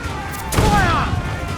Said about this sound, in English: We'll give a good broadside!